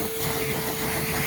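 Ridgid dual 18-volt cordless vacuum, model HD0918, running steadily with a loud, constant broadband whoosh and a thin tonal whine, close up and with no voices.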